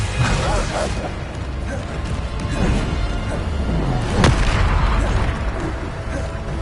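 Bombarda spell explosions from the video game Hogwarts Legacy go off as dense, booming blasts. They come through a loud, constant wash of game noise with no clear gaps between them.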